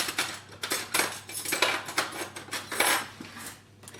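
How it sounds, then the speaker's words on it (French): A fork repeatedly mashes bananas in a mixing bowl for a banana cake, producing a steady run of close metallic clinks and scrapes against the bowl with no talking. "on va écraser les bananes une par une déjà"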